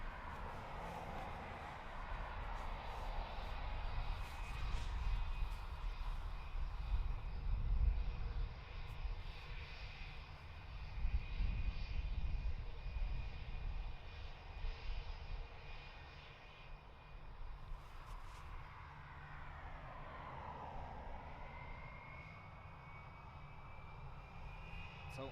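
A HiSky airliner departs Dublin Airport with a loud, continuous jet-engine roar that rises and swells over the first half, then eases slightly into a steady, more distant rumble toward the end.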